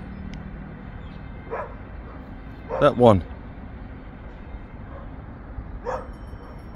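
Dog barking in short yips and woofs: a couple of quick barks in the middle, with fainter single barks before and after, under light background noise and a brief spoken remark.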